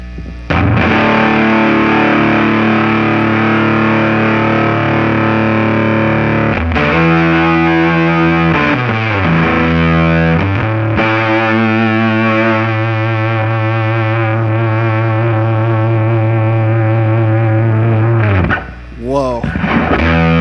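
A Telecaster plays through a 1990s Dunlop Fuzz Face with volume and fuzz fully cranked, giving thick, saturated, sustained chords and notes that ring loud and close for a long stretch.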